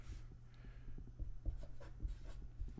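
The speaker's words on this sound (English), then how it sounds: "I'll write it down here" Pen or pencil scratches on paper while a math problem on dividing radicals is worked by hand, soft rhythmic strokes and taps close by, quiet and steady with no talking.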